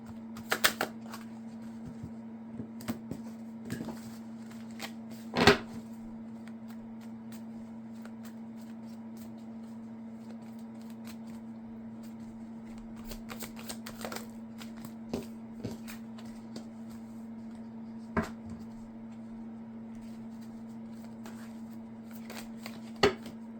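Tarot cards are shuffled in a quiet room, with sparse soft riffles and a few sharper card slaps spread out over a steady low hum, and no talking.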